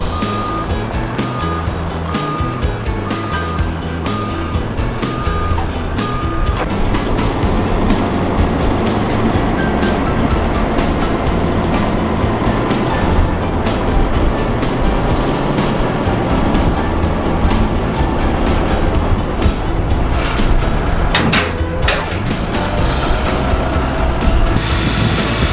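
A Mack dump truck loudly revving and moving, with steady heavy engine roar and a repeating reverse alarm beeping throughout, close by and continuous.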